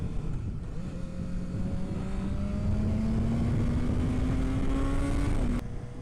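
BMW S1000R motorcycle pulling hard in second gear, engine pitch climbing steadily as it accelerates, loud and close with wind rush, then a sudden cut as the throttle closes near the end.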